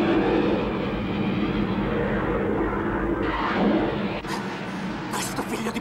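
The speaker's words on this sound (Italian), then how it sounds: "Alex, l'aereo non ce la fa più!" A loud, continuous airplane engine roar, straining as the plane struggles, fills the whole stretch, dense and rumbling, with its tone shifting partway through.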